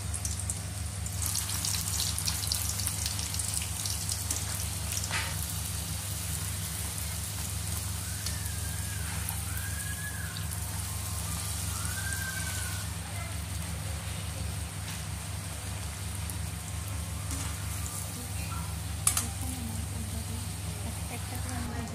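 Bhatura frying in hot oil in a kadai gives a steady, close, rain-like sizzle and crackle that runs unbroken throughout, with a soft bump near the end.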